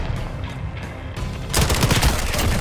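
Gunfire in the video game Modern Warfare: a dense burst of rapid, loud shots starts halfway through and keeps going, over a quieter bed of earlier game noise.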